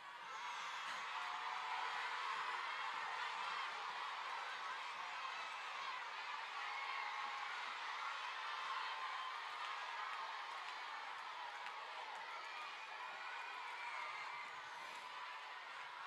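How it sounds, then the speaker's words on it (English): Banquet crowd at a large gathering of women cheering, a sustained wall of voices and whoops that holds steady and loud throughout without a break. "let's hear a cheer for each division."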